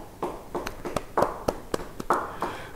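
Scattered applause from a church congregation, a light irregular patter of hand claps of moderate loudness that rises and falls over a few seconds, with no one speaking.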